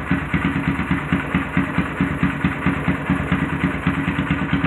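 A Honda Grom motorcycle with an aftermarket cam idles unevenly while not fully warmed up, throwing out a steady, lumpy loping beat that stays loud and close throughout, with no talking over it.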